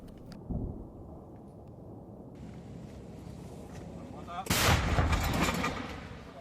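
A heavy distant artillery boom near Kharkiv rolls out in a long low rumble after a faint earlier thud, outdoors with a voice speaking briefly.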